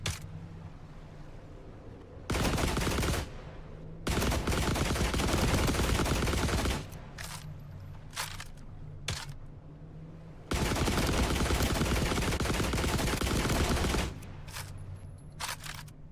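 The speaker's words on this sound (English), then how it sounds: "I might as well go ahead and shoot him." Bursts of gunfire in The Last Caretaker video game come in several sustained, loud volleys of a few seconds each, separated by quieter game ambience.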